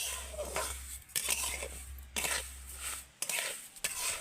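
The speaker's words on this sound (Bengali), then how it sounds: "এবার এইভাবে নাড়তে থাকবো নাড়তে নাড়তে কিন্তু চিনিটা এমনি এমনি গলে যাবে" A spoon stirs sugar with a splash of water as it melts in a pan for peanut chikki, with repeated scraping strokes against the metal at a steady rhythm under a low hum.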